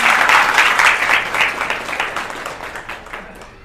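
A crowd at a Gita Jayanti religious gathering claps in loud, sustained applause that gradually tapers off, with no voices over it.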